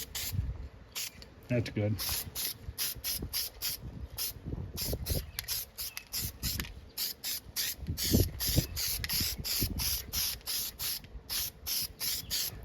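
A spray paint can hisses in a long run of short, rhythmic bursts while coating arcade cabinet parts during a restoration, with a brief spoken remark and some handling clatter between sprays.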